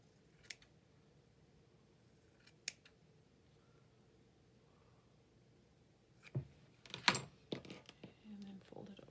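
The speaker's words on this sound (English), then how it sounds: "we're going to trim this one down a little bit also" Scissors trim paper card for a journal card. A couple of isolated faint snips are followed by a quick cluster of cuts and paper rustle, all quiet and close, with soft talk in the background.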